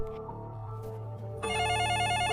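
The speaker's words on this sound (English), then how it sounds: "The phone starts ringing" A telephone rings loudly and steadily after a low droning background, its bright electronic trilling tone starting about midway and continuing to the end with no voices.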